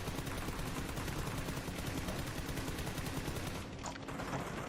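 M4 assault rifle with a 4x scope and full attachments fired in PUBG, a rapid continuous automatic burst of loud gunshots lasting several seconds before cutting off.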